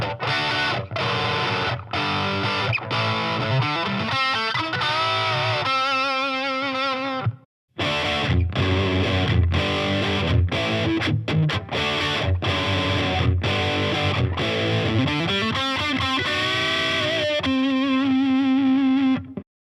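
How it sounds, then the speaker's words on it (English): Electric guitar played through Fender Champion 20 and Champion 40 amplifiers, distorted and effects-laden, with chords and riffs ringing loud and steady, a brief cut to silence midway, then more playing ending on sustained notes. "I'm going to let you hear what they sound like on the Fender Champion 20 and the Fender Champion 40."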